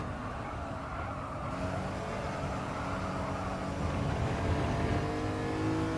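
A race car in Gran Turismo 7 drives into a left-hand corner, its engine holding a steady, fairly loud drone that swells slightly as it carries through the turn, with no voices.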